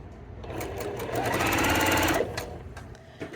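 Sewing machine chain piecing quilt petals for Dresden plates, its needle running in one fast, close, continuous burst of about two seconds that starts and stops with a few lighter clicks.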